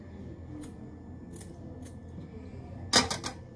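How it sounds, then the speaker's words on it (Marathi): Cucumber and onion being cut: a few faint scattered cuts, then a louder cluster of sharp snips near the end, close by, with no talking. "हां, काकडी आणि कांदा मी कापून घेणार आहे, कापून चिरून मस्त."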